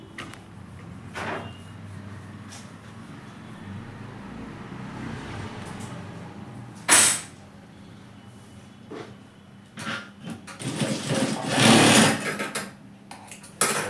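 A sewing machine stitches a pocket onto capri trousers, a low steady hum under brief louder bursts and clatters near the end, close by.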